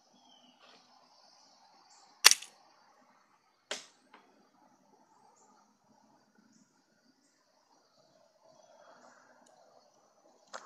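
A mousetrap handgun fires at a nut, giving a sharp, close snap followed by a second fainter crack and a few small clicks in an otherwise quiet room.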